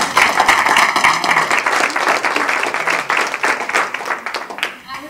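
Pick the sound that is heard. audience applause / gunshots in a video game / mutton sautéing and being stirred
audience applause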